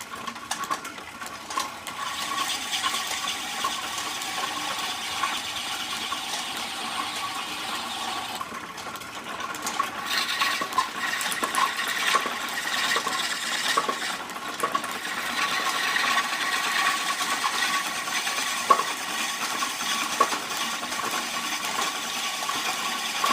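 A Barnes No. 3 metal lathe runs continuously with a steady mechanical whir and rattling hum, a slightly shaky machine droning at even loudness for the whole stretch, with occasional small clicks and knocks and no voices.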